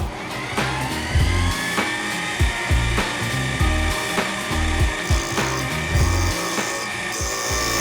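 A lathe whirs steadily while a cutting tool scrapes against a spinning carbon fiber ring cut from a Pagani wheel, with rhythmic knocking as it hits high spots and grinding bursts, close up and without speech.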